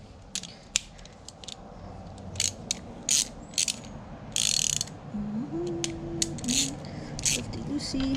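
A ratchet wrench clicks in short repeated bursts while loosening a 17 mm motorcycle oil drain bolt, crisp close ratcheting ticks separated by pauses, with a low creaking tone partway through.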